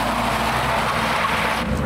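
At a UK car show, a car accelerates hard away from the crowd, a loud, brief burst of engine roar and tyre noise close by that cuts off near the end.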